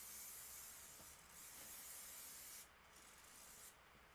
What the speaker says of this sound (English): I'll come back and spray the applique fabric